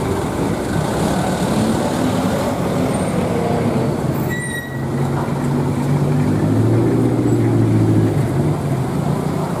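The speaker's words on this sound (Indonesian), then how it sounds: "Dan bis Sumberjaya." A Sumberjaya bus passes on a road at Pasar Limbangan in Garut, its loud, steady rumble and whine briefly dipping midway, then swelling again as heavy traffic noise continues.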